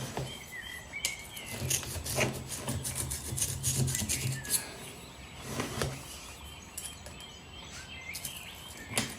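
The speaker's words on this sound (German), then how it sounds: "dann lösen wir mal die Wurzelballen" Hands loosen the soil-packed root ball of a small thyme bonsai, giving close, gritty rubbing and crumbling scrapes in irregular bursts, while birds chirp faintly in the background.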